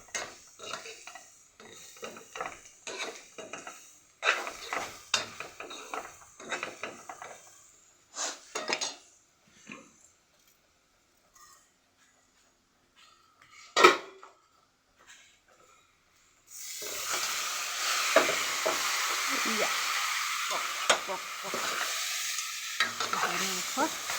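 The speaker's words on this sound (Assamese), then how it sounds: "চাট মছলাখিনি তেলেৰে ভাজি থাকিম" Spice mix frying in oil in a pan, first with scattered stirring scrapes and clinks of a utensil against the pan, then a steady loud sizzle over the last several seconds.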